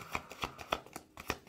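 Tarot cards being drawn and handled: a quick series of soft, crisp flicks and slides of card stock, about five light snaps in close succession, near and quiet.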